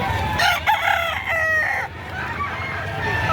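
A pumpkin bull stag rooster at a livestock market crows loud and close in one long, rising call, with a hum of market background under and after it.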